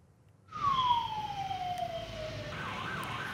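Fire engine sirens arrive at a burning garment factory warehouse in Boyolali, Central Java, after a suspected electrical short circuit. A wailing siren rises suddenly and sweeps downward, then settles into a yelping warble over traffic noise.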